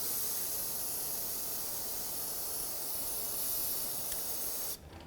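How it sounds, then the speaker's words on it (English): Brake parts cleaner sprays in a steady, loud hiss onto a new rear brake hose fitting on a 2008-2010 Ford F-250, running continuously for about five seconds before cutting off abruptly. "Rinse the debris off. Try not to get brake parts cleaner in the hole."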